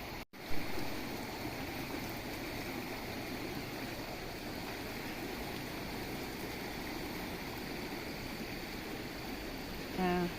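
Rushing water of a stream swollen to the brim after heavy rain, a dense continuous roar that holds steady throughout with no voices, broken only by a brief knock at the start.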